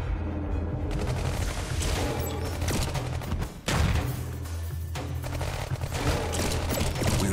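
Dense, continuous gunfire from a squad battle in the mobile strategy game Iron Marines Invasion, a loud rattling fusillade with bursts overlapping throughout and a brief dip partway before the shooting resumes just as heavily.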